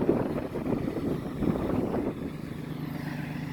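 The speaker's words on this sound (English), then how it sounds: "Real bad windy out here" Strong outdoor wind buffets the microphone, a low rumbling roar with uneven gusty surges that eases slightly toward the end, with no voices.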